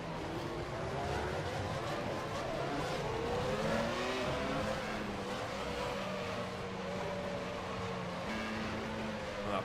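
1996 Formula 1 race car engine in the rFactor 2 racing game at Circuit de Catalunya: a continuous high-pitched engine whine rising and falling through gear changes, with tyre noise, heard steadily without talk.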